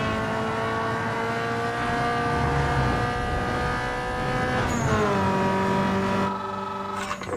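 Toyota Corolla racing on a circuit in Need For Speed Underground 2, a steady high engine whine with rising pitch, a sharp gear shift drop near the end, loud and close.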